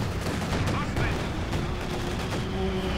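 Soviet mortar fire from Company of Heroes 2, a dense run of sharp thumping shots and blasts in quick succession amid continuous battle noise, with a voice talking over it.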